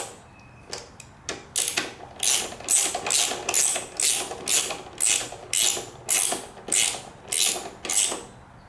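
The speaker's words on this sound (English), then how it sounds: "Now we will get our ratchet. And I think I'm going to tighten up the caliper bolts here." A ratchet wrench snugs up the brake caliper bolts on a Honda VTX 1300R motorcycle, a loud close series of evenly spaced clicking strokes, about a dozen in steady rhythm after a few hesitant starts.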